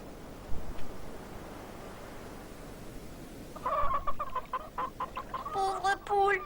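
Cartoon hens break into a burst of rapid, bright clucking after a stretch of quiet ambient noise, the calls growing busier and louder near the end.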